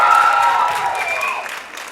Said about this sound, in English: So if we could give one collective great big round of applause for these students and their accomplishments.